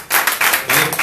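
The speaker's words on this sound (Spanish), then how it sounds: "¿Cuántos le dan palmas de alabanza al que vive?" A church congregation claps hands in praise during a service, a loud, dense, continuous wash of many hands close by, swelling in a few rhythmic waves over a short burst.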